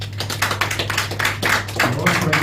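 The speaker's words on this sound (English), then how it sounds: "So please give him a round of applause." An audience claps for a guest being introduced, with a handful of close, uneven claps and taps over a low steady hum, and a voice speaking over part of it.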